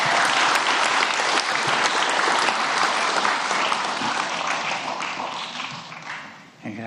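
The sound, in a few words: audience applauding for a woman's 87th birthday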